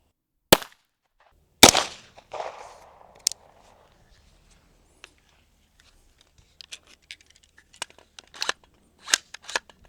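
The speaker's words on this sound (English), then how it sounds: "Now for the 9mm penetration test on wheat." 9mm rounds fired from a custom AR9 into wheat in a farm ballistic test: a few sharp, separate cracks with short decays early on, then fainter clicks and rattles.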